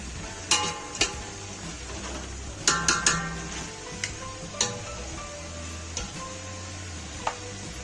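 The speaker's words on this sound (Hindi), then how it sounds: "तीन से 4 मिनट हम इसको मसाले में अच्छे से भून लेंगे" Beef pieces frying in spices in a pot for pulao, a soft steady sizzle broken by sharp clinks and taps of a spoon stirring against the metal at irregular intervals.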